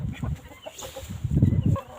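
Chickens clucking and a rooster calling inside a henhouse, close, bursty clucks and throaty calls in quick irregular clusters filling the whole moment.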